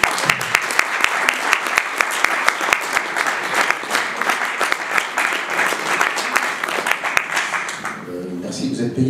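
A conference audience applauds a guest comedian with dense, sustained clapping that fades out near the end, giving way to a voice talking.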